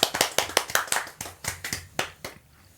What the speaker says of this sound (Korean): 박수로 맞이하겠습니다